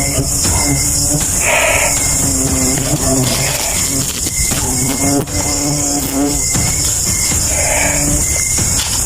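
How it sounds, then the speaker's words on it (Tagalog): A dense, steady buzz of many bees fills the air, loud and close, with a few brief rustles and no talking. "Ang dami ng bubuyog"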